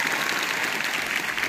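Audience at a college poetry recital in Kamgaon clapping together, a dense, even roar of many hands close by, loud and continuous without speech.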